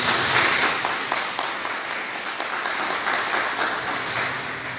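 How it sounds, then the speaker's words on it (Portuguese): A church congregation claps together at a Sunday family service, a full, even wash of applause held steady from start to finish. "Vamos aplaudir a palavra de Deus?"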